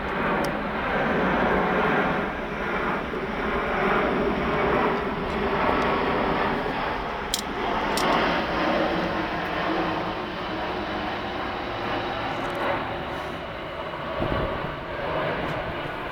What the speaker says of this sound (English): I might wait for this plane to go over